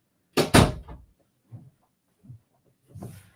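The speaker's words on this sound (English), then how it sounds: "I'm shutting this door." An indoor door slammed shut with a sharp loud double thud, followed by a few softer knocks and muffled sounds nearby.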